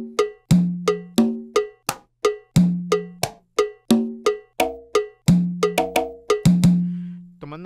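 Programmed cowbell percussion samples from a grupero-style setup, struck in a busy syncopated pattern of sharp metallic clanks with ringing overtones, some hits pitched lower and sustained, loud and close with no voices.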